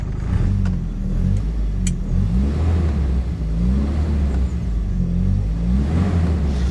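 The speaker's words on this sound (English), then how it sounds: "That is a lovely, lovely, smooth little engine." A Triumph 1300 front-wheel-drive car engine idles smoothly in neutral, a steady, close and fairly loud mechanical hum that runs evenly throughout with only slight swells.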